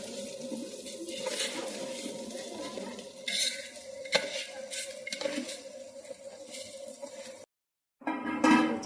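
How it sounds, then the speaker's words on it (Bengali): Rice frying with spices in a home kitchen pan, stirred with a utensil: steady scraping and clinking over a soft sizzle, with sharper metallic knocks, a short silent gap near the end, then louder stirring. "চালটা সুন্দর করে ভেজে নিচ্ছে মশলার সাথে"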